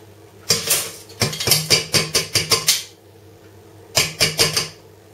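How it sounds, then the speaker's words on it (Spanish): Drained lentils are tipped into a cooking pot, giving rapid clattering rattles in two bursts, close and fairly loud, with a short pause between. "las ponemos ya directamente en la olla"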